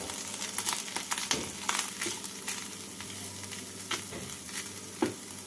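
Cauliflower being stir-fried with grated ginger and green chilli in a pan for cauliflower paratha filling, a steady sizzle broken by scraping stirs and soft clinks at irregular intervals, close and moderately quiet with no talking.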